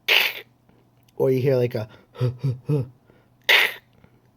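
A person vocally imitates a puppy's reverse sneeze: a harsh, breathy snorting burst, then a stretch of speech, then a second matching snort at the end.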